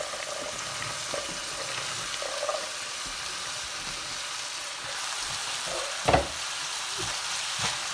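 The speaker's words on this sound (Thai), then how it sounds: "มาผัดหมูกับพริกให้สุกเลยนะคะ" Pork and chillies stir-fry in a pan for a basil and instant noodle dish, a steady close sizzle with occasional scrapes and clinks of a utensil stirring.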